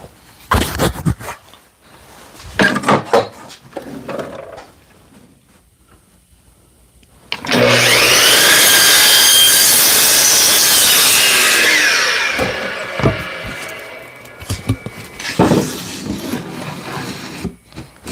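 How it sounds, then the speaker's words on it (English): A miter saw cuts through a piece of wood for a cabinet drawer runner in one loud, sustained whine lasting about five seconds, with clattering and handling noises heard up close before and after. "And we'll cut that on the miter saw."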